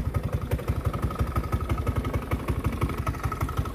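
A carbureted Honda Beat scooter engine idles roughly and loudly, with a steady rapid clattering pulse close to the microphone.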